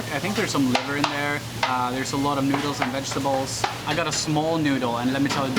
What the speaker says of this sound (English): occasionally you will hear some nice frying in the background